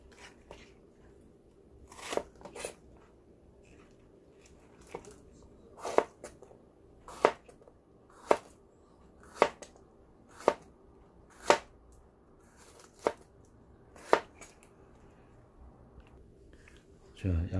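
A knife chops a bell pepper on a cutting board while fajitas are being prepared. About ten crisp, close strikes come at uneven intervals, then settle into a steadier rhythm over a quiet background.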